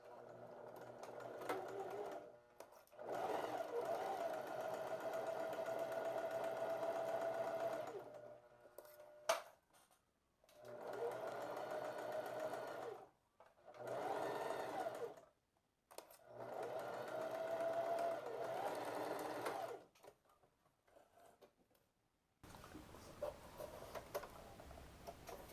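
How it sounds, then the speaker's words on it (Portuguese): A sewing machine stitches a dart on a mandarin-sleeve blouse with a low, steady hum in several runs of a few seconds each, separated by short pauses, quiet and close. "Vou alinhar minha agulha bem no início do desenho da pence e começo a costurar."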